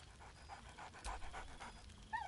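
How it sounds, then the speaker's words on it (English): Scratch, the dog companion in a video game, pants softly and steadily with faint whimpers, all quiet and in the background. "Scratch barks merrily in something like agreement."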